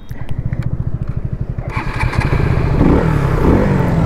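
A KTM RC200 motorcycle on a test ride, its engine thumping rapidly at idle close by before revving up into a louder, rising roar.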